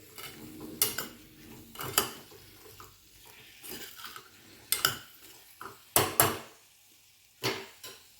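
Eggplant and potato curry stirred with a metal utensil in a pan, sharp clanks and scrapes against the pan arriving in irregular bursts over quiet gaps, close and without talk.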